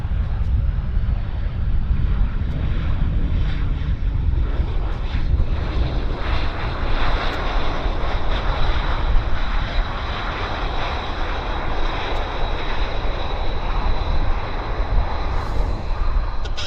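An airplane lands at Vancouver Airport, heard as a continuous rumbling engine roar with gusty wind noise across the microphone, holding steady and fairly loud.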